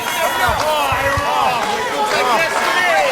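A wrestling crowd cheers a wrestler during a match with another wrestler, a steady roar of many voices filling the arena with a few thuds from the ring.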